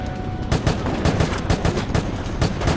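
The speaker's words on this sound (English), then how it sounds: "Shooting." Rapid automatic gunfire in the video game Resident Evil: Operation Raccoon City, dense repeated bursts of loud close shots in an uneven rhythm, no talk.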